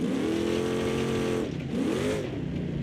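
Race car engine in a video game, loud and close, revving high and accelerating off the line with a sustained whine, briefly dipping for a shift around the middle before climbing again.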